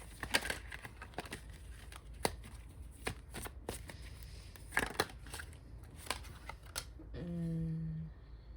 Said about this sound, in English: I'm just gonna keep shuffling.